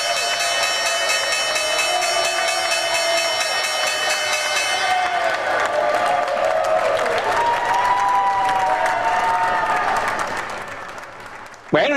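Applause and cheering from a crowd at the New York Stock Exchange closing bell ring out steadily throughout, a dense wash of clapping under tonal electronic chimes and shouts, fading briefly near the end before a sharp burst.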